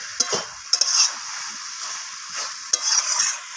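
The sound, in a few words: stirring and frying cabbage with sugar and green chilli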